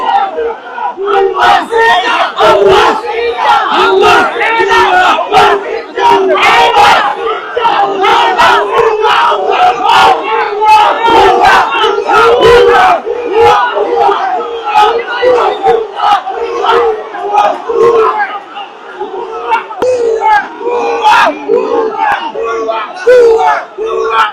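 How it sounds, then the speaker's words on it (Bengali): A large crowd of protesters outside a hospital emergency ward chanting a two-beat slogan over and over, loud and close, with many voices shouting in rhythmic unison for the whole stretch. "তারা কিন্তু ভুয়া ভুয়া স্লোগান দিচ্ছেন"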